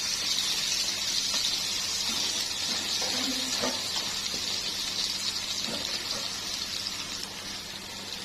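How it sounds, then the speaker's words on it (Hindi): Garlic ginger paste frying in hot oil in a wok, a steady, loud bright sizzle and hiss running throughout, with faint clinks of utensils and no talk. "ये आधा खाने का चम्मच लहसुन अदरक का पेस्ट इसमें डाल देंगे हम। तो थोड़ा सा फ्राई करेंगे।"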